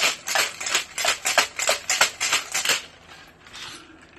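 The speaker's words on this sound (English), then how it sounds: "We are going to shake it up." Cider whiskey cocktail shaken hard in a shaker, a rapid series of bright rattling clacks in bursts of about three seconds, then a few softer knocks as the shaking stops.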